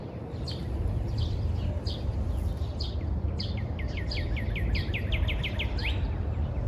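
Birdsong in a backyard garden on a mild spring day: repeated chirps and a quick trilling series, moderately distant, over a steady outdoor background hiss.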